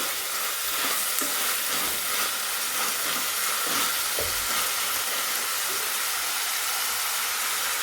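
Whole spices such as cinnamon, star anise and bay leaf frying in hot oil for rajma curry, a steady close sizzle and hiss with occasional crackles and light stirring, no voices.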